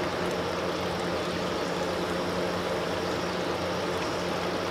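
Constant, even trickle of water falling through a Honeywell outdoor air cooler, with a faint low pump hum beneath, steady throughout with no voices.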